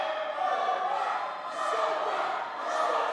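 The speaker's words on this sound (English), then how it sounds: "Listen to the crowd" A wrestling match crowd roars in a sustained, fairly distant wash of cheering that swells and dips, with a couple of louder surges, heard alone without nearby talk.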